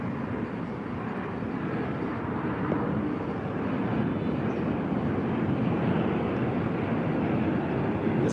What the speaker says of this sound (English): Here comes the B-52.